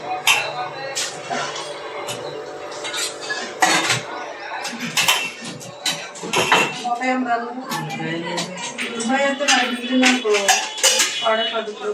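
Steel pots and dishes being washed by hand, with continuous clattering, clinking and scraping of metal utensils at close range, loud and busy throughout.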